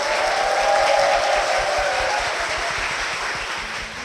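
Church congregation applauding a couple in a Korean church service, a steady wash of dense clapping that holds loud for four seconds and eases slightly toward the end.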